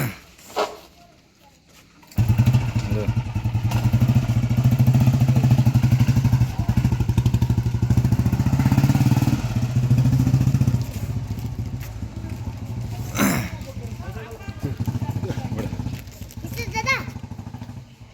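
A Royal Enfield Bullet motorcycle, its engine rebuilt after cylinder head repair and fitted with a new tank, silencer and seat, starts and runs with a loud, steady low thump for about fifteen seconds, with voices talking nearby.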